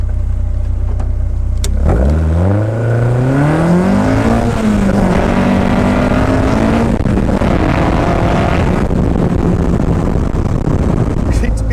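A GBS Zero sports car sits idling, then launches hard for a 0-60 mph run, the engine note climbing loudly through the gears and holding a strong roar before easing off.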